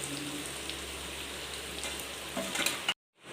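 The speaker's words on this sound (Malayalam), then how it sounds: "ചിക്കൻ കഷ്ണങ്ങൾ ഓരോന്നായി ഇട്ട് കൊടുത്ത് ഫ്രൈ ചെയ്തെടുക്കാം" Chicken pieces frying in oil for a chicken curry, a steady soft crackling sizzle that runs evenly and then cuts off abruptly near the end.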